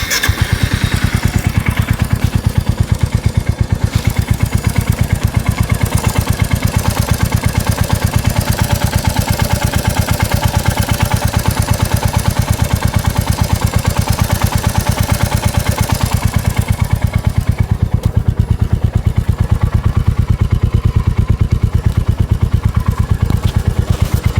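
Royal Enfield Meteor 350 motorcycle idling, its single-cylinder exhaust producing a loud, steady, rapid thump that continues unbroken and up close throughout, with no voices.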